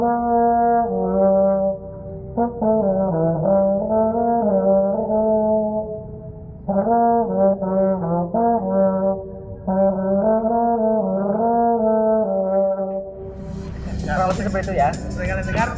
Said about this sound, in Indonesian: Dan untuk suaranya coba untuk bariton ya.